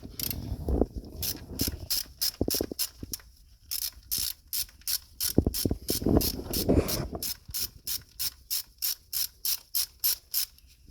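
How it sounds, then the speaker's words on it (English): A ratchet with a regular 10 mm socket clicks in quick, steady bursts while removing the valve cover bolts on a BMW N62 V8 engine, with short pauses between runs and clunks of the tool in between. "they are 10 millimeter. It's just a regular socket, so it's nothing fancy"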